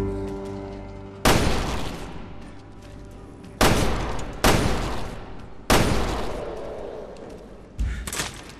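Gunshots in the video game Resident Evil Revelations 2, five loud booming blasts spaced a second or more apart, each with a long reverberant tail over a low game hum.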